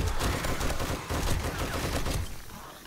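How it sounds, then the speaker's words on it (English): Automatic gunfire from a machine gun in the zombie survival game 7 Days To Die at night, a dense continuous rattle of bursts that holds steady and loud throughout. "Oh yeah, machine guns are fun!"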